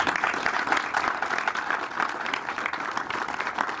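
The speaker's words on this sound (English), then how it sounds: "Can we give the family a big round of applause?" A crowd applauds the family of a man honored for 60 years of service with the fire department; sustained, full clapping from many hands continues evenly throughout.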